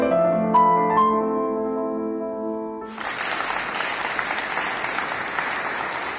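Audience applause breaks out after a concert inside a church in Palermo, a sudden loud burst of many hands clapping that follows the last sustained notes of the music and carries on steadily to the end.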